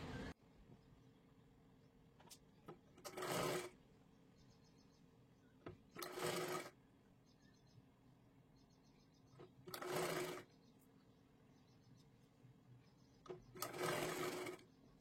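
A sewing machine stitches a folded fabric triangle for a blouse sleeve in four short, evenly spaced bursts with quiet pauses between them, heard alone at moderate volume.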